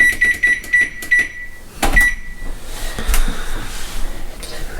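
Electronic oven control panel beeping as it is set to preheat to 375 degrees, with a quick series of short, evenly spaced beeps, then clicks and handling noise in a kitchen.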